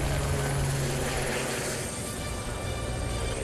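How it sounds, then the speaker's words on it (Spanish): A CONAF firefighting helicopter flies over a wildfire, its rotor and turbine roar loud and steady throughout with a low rhythmic thump, staying close and constant without fading. "Helicóptero de CONAF,"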